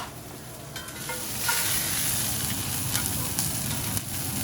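Broccolini charring in a very hot pan, a steady close sizzle and crackle that swells slightly after the first second and holds loud and even, with no talk.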